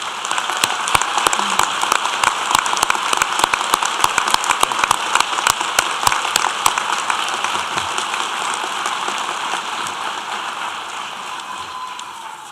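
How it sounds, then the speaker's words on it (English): Audience applause for standing veterans at an engineering and applied science graduation ceremony, a steady patter of many hands clapping that thins and softens toward the end, with no talk over it. "so that we can give you a round of applause"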